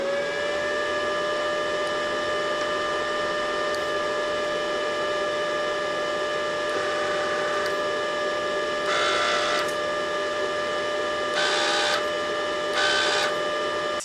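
A Parkside flux-core welder's wire feeder runs with a steady mechanical whir and a constant tonal hum, close and even, interrupted by a few short bursts of harsher hissing noise.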